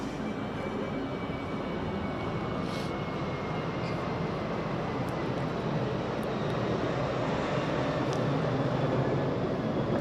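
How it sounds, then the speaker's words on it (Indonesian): An airplane flies overhead near the small airport in Yogyakarta, where planes circle while queuing to land, producing a steady, broad engine roar that holds level throughout with no talking. "Ya kayak pesawat ini bolak-balik lewat kan gimana lagi?"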